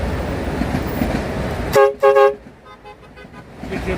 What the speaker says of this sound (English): They honk.